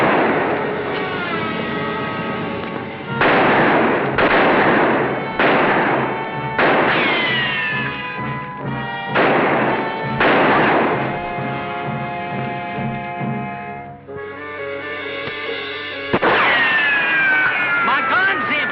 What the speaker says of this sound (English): It's against the law shooting at people that way.